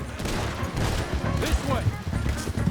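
Gunfire erupts in Red Dead Redemption 2 during a chaotic Beaver Hollow shootout, with overlapping shots and booms beneath raised voices shouting throughout.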